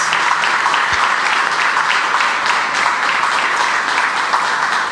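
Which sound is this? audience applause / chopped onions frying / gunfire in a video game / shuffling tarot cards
audience applause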